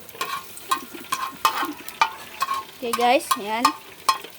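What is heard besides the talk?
garlic frying and being stirred for chicken tinola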